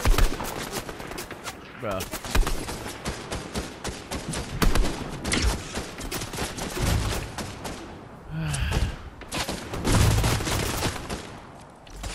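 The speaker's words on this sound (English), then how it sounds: "The guy's shooting from the house." Dense bursts of Fortnite gunfire crackle in rapid volleys, with sustained automatic fire and sharp single shots from a shooter in a house, loud and close, while a player briefly speaks over the shooting.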